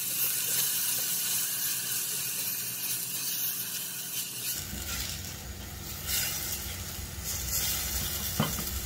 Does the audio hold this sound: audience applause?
no